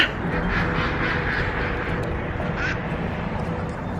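Ducks quack in a dense, continuous chorus, several birds calling at once from close by, outdoors on a cold day in central Pennsylvania.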